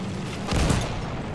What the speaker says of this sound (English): Ah, they're throwing grenades at me.